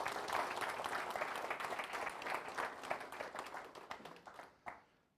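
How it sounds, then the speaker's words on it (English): An audience at a Goa maritime forum applauds Captain Delson, a dense roomful of clapping that holds steady, then thins to scattered claps and stops abruptly near the end. "I'd like you to give him a round of applause."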